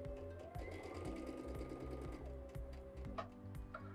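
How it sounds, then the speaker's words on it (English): A BabyLock Chorus sewing machine stitching quilt fabric strips runs in a fast, steady mechanical whir with rhythmic needle chatter, stopping and restarting briefly, close and fairly quiet. "So I'm going to start sewing."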